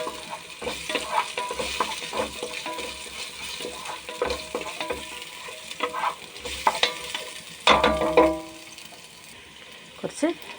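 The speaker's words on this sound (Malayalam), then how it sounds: "നന്നായിട്ട് പച്ചമുളകൊക്കെ ഒന്ന് മാറുന്ന വരെ ചുവന്നുള്ളിയും വെളുത്തുള്ളിയാണ് ഇട്ട് കൊടുക്കുന്നത്." Green chilies, shallots and garlic sauté in a hot pan for a sambar, with steady sizzling and frying plus repeated scraping stirs of a spoon, a louder clatter near the end, and a voice speaking intermittently underneath.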